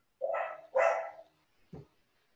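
A dog barks nearby in two loud, drawn-out barks followed by a shorter, lower bark, with no talking over them.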